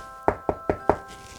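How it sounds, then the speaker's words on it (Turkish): Four sharp, evenly spaced knocks on a door, close and clear with no talking. "anneannesinin evine vardığında kapıyı çalmış"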